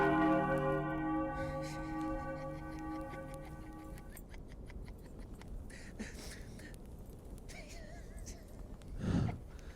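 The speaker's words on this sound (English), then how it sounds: "Silence that dreadful bell!" A bell rings several times with a resonant, decaying tone in a staged performance of Othello, then fades into a murmur of room noise and stirring, with a brief gasp near the end.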